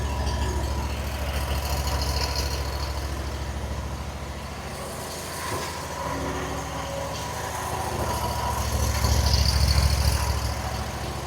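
A lawn mower engine runs at idle just after starting with the choke off and the throttle turned down, a steady loud rumbling drone that swells slightly toward the end, with no talk.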